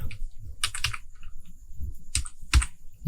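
Password being typed on a computer keyboard, with near key clicks arriving in quick bursts and clusters separated by brief pauses, then a final heavier keystroke.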